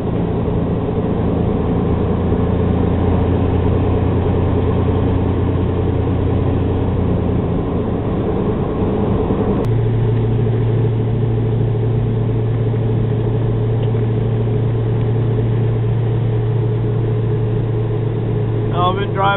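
Steady engine and road drone from inside a car cruising on the highway, continuous and fairly loud throughout with a shift in tone partway as the engine note changes.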